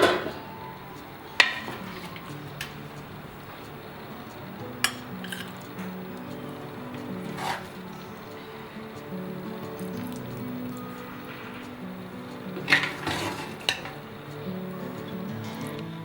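Pots and utensils clink and scrape while cauliflower meat curry is dished out, with sharp metallic knocks scattered among softer kitchen clatter and no talking.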